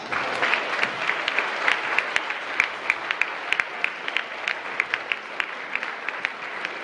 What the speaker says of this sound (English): Give it a nice round of applause.